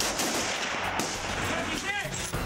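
Military rifle fire during soldiers' shooting practice, heard as a dense, continuous volley of loud gunshots filling the whole stretch.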